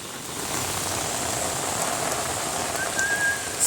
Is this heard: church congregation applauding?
no